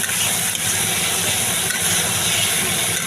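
Masala sizzles steadily in hot oil for a mourala fish jhal, a loud, even hiss of frying spices with no break.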